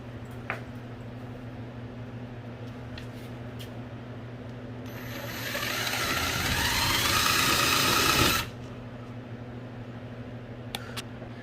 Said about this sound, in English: we're going to drill some 1/2-inch holes